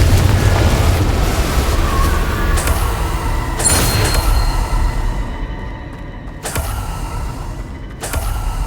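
Confringo fire spell blasts in Hogwarts Legacy, a string of loud booming explosions with sharp onsets around the three-, four-, six-and-a-half- and eight-second marks over a dense, continuous rumble of combat and music.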